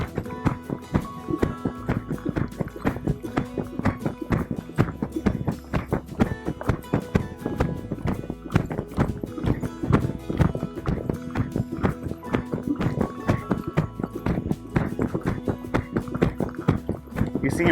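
A gaited horse cantering, its hoofbeats thudding in a continuous rolling rhythm with musical accompaniment running underneath throughout.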